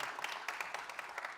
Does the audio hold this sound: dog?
no